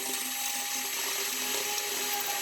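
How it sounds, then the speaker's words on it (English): A wire brush works over aluminum tack welds and joints before welding, giving a steady, close, continuous whirring scrub with a thin whine for the whole stretch and no talking. "I'm going to go over all my tacks with the wire brush and all my joints"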